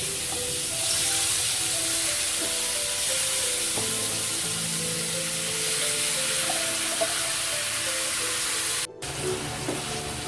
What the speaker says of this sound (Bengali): এখন এভাবে আমি কষাতে থাকবো